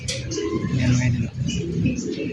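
Pigeons in a loft coo and burble close at hand, their soft rolling calls running under a voice talking throughout.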